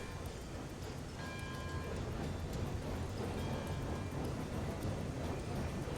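A 21-car freight train of nearly 600,000 pounds, double-headed in the Railroads Online game, rolls along with a continuous, steady rumble and clatter, heard close and unbroken throughout.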